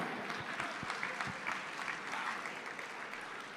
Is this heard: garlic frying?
no